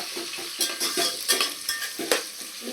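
Onions sizzling and frying in a pan for prawn and gongura biryani, stirred in steady scraping strokes over a continuous close hiss.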